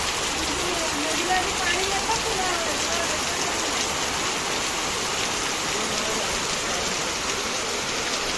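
Heavy monsoon rain pours steadily in Mandangad, a dense, constant hiss of drops on surfaces that stays loud and unbroken throughout.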